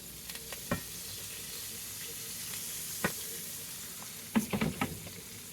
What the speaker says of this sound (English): Throw all of our asparagus in a skillet.